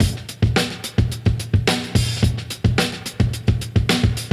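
A looped drum break called Can't Get Ahead, with punchy kicks and crisp snares repeating in a steady, tight groove, played loud with no voices.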